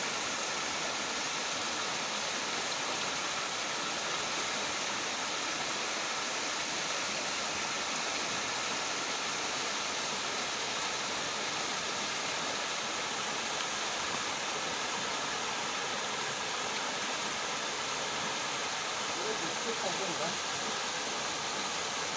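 A steady, broadband rush of falling water from the second of the Srikona Waterfalls fills the whole stretch, constant and unbroken with no other sounds standing out.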